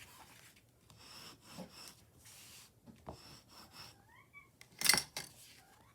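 A cat making a couple of tiny, faint meows near a window, brief high chirps in the middle of the scene, set against intermittent rubbing and rasping sounds from nearby craft work.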